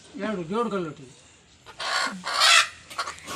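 A chicken gives a short run of warbling clucks nearby, followed by rustling and scuffling noises.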